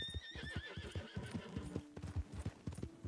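A horse in Red Dead Redemption 2 neighs with a rising, wavering whinny at the start, while hooves clip-clop in a quick, uneven rhythm underneath throughout, close and moderately quiet.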